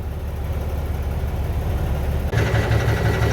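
A car engine idles steadily and close just after ignition, a loud continuous low rumble that steps up slightly in level partway through, with no talk.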